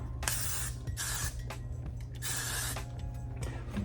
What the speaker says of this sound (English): I'm gonna get some intense hairspray right now